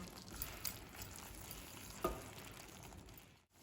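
Masala cooking in oil in a pan until the oil separates, a steady soft sizzle with faint scraping of stirring, close but low in level.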